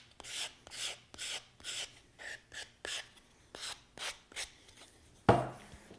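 A wooden try square blade has its end rounded with a rasp or file, about a dozen rhythmic broadband strokes in steady succession, close and clear, ending with one sharper, louder knock.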